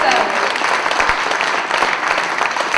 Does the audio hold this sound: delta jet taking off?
no